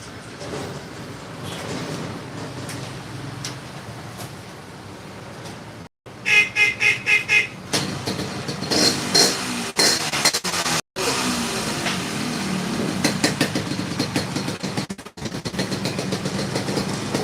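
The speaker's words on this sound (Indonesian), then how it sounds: "Oke, sekarang kita coba hidupkan dulu motornya." A 1997 Yamaha RX King motorcycle with a YP4 cylinder block starts up: a burst of sharp two-stroke revs, then a steady rapid idle with throttle blips, loud and close, with brief gaps.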